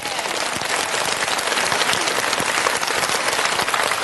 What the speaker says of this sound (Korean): 막 더 박수.